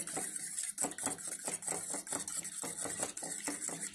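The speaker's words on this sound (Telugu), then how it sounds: "కొంచెం పసుపు వేసుకొని కలుపుకోవాలి" Pesarattu omelette batter mixed with salt and turmeric, a steady run of quick scraping clinks of a spoon against a bowl, close up and fairly soft, with no voices.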